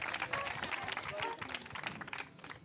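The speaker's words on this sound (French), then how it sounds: "Farida, on va l'applaudir." A television studio audience claps in a dense, steady patter of applause that keeps going without letting up, with voices mixed in.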